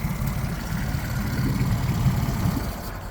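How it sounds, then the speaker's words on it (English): A 2004 Yamaha 8 hp short-shaft four-stroke outboard engine running at a steady low idle, a continuous close rumbling drone without talk. "This is a 2004 Yamaha 8-horse short shaft 4-stroke."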